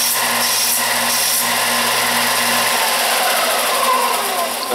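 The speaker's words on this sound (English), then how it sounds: "I'm just going to grind off these corners." Power grinder taking the corners off a brass rod while making RC linkage horns: a loud, continuous grinding whine that holds steady, its low hum dropping away partway through.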